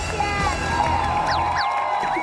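Studio audience on a Chinese comedy debate show cheers and whoops in a dense, lively crowd roar that holds steadily for a couple of seconds, with scattered excited shouts rising above the babble.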